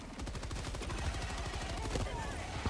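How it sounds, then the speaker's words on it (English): A burst of rapid gunfire and blasts from a video game shooter, dense and continuous, with no clear single grenade explosion standing apart. "somebody threw a grenade at us"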